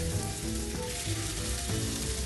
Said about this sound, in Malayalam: ഒരു പാനിലേക്ക് ഏകദേശം ഒരു 3 ടേബിൾ സ്പൂൺ എണ്ണ ഒഴിച്ച് ചൂടാക്കി അതിലേക്ക് ചിക്കൻ പീസസ് ഇട്ട് ഫ്രൈ ചെയ്യാം